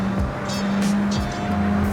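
Fast car in a racing video game, a loud engine note holding high with brief tyre squeals and shifting pitch as it powers along, no voices.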